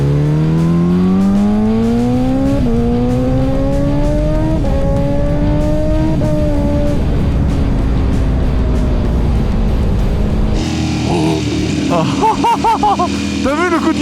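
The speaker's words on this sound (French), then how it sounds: "T'as vu le coup de gaz qu'il vient de mettre? C'est ça qui est traître sur cette moto." A Kawasaki H2R sport motorcycle's high-revving engine climbs through several gear shifts on a track, loud and close, then voices talk over the fading motor noise.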